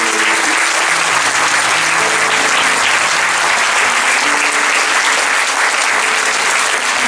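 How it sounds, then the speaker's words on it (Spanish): A congregation gathered under a tent for a church anniversary service applauds loudly and steadily, a dense, sustained wash of many hands clapping throughout with faint tonal murmurs beneath. "Démosle otro aplauso a nuestro Señor"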